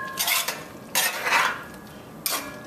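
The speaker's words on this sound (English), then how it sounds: "Give that a quick stir." Spoon scraping and clinking in a pot as coconut dumplings are stirred into Caribbean stewed beef gravy, three short bursts of stirring close by, with no talk.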